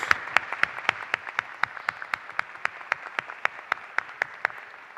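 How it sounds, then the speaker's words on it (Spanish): Audience applause welcoming the panel at a human rights forum, with many hands clapping in a fairly quiet, steady patter marked by regular sharper claps, moderately distant and continuing for the whole stretch. "demos un aplauso de bienvenida a quienes hoy en esta mesa participan"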